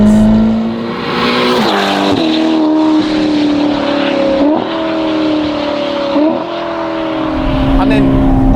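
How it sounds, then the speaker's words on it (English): A Novitec-tuned Ferrari Portofino M, 688 hp, with the rear muffler removed, revs loudly up and down through several gear changes, with a raspy exhaust note close by. "the sound is now mental, as you are about to hear"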